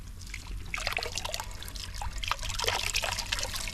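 Water from a garden fountain in a Cypriot garden in summer trickles and splashes steadily, close and continuous, with no voices.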